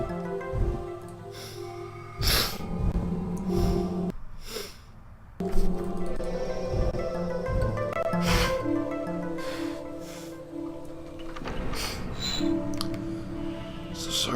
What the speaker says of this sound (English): So sorry about the sniffling